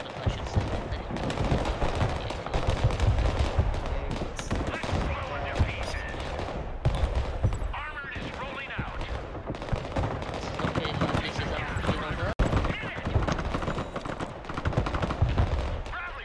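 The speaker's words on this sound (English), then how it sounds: "Why the fuck is my line breaker firing?" Rapid automatic gunfire from a line breaker unit in the military strategy game Broken Arrow, dense overlapping bursts and explosions running loud and continuous throughout, with a voice talking over the din.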